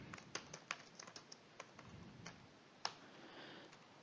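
Computer keyboard being typed on, a scattering of light, irregular key clicks close by and quiet, ending with one sharper keystroke and no voices.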